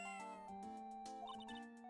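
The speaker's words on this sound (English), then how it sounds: "Oh, so you can hear the meow." Shoo, a cat in the video game Ace Attorney: Justice for All, gives short meows over steady, tinkling game music with bell-like notes.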